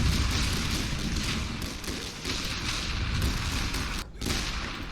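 Soldiers' rifles firing a volley in a World War I game on the Western Front, a dense continuous crackle of massed gunfire and distant booms with a brief dip near the end.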